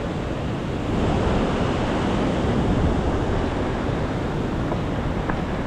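The Housatonic River near Falls Village, Connecticut, rushes as a steady, loud, broadband wash of water, swelling slightly after the first second and holding constant throughout with no voices.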